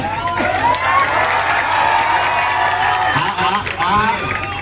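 An audience at a gathering in Jasdan claps amid dense crowd cheering and shouting, with voices throughout.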